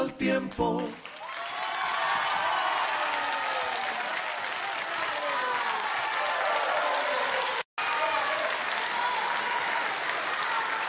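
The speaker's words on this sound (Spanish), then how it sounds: "Ovación de gala e público entregado" A studio audience gives a sustained ovation after a live performance of a ballad on a radio show: thick, continuous clapping with some cheering, lasting several seconds and briefly cutting out once near the end.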